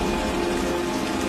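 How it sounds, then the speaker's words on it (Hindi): Rain falling steadily, a dense continuous hiss of drops on surfaces, loud and close, alone without talk. "बारिश।"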